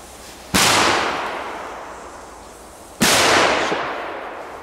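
Two sharp firecracker bangs set off outdoors in Belgium, the first at about half a second and the second roughly two and a half seconds later, each loud and close with a long fading tail.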